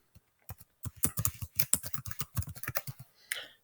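A computer keyboard typed on rapidly to enter a calendar name, a dense run of close, crisp keystrokes with a short pause before a final light tap, no speech.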